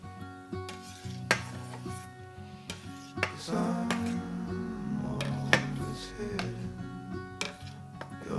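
Knife cutting through a set cheese curd into 1-inch cubes in a home kitchen, soft scattered taps and knocks against a pot, faint and irregular over a quiet background hum.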